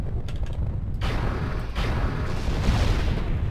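Heavy weapons fire and explosions from mechs in the MWLL (MechWarrior Living Legends) game on a Palisades raid map, a dense continuous roar of booms and mechanical clatter that grows louder after the first second, with no voices.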